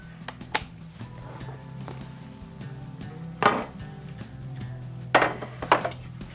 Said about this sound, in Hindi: अब मैं इसको करूंगी कवर और यहाँ जो है वो मैंने ले लिया है इसका लिड।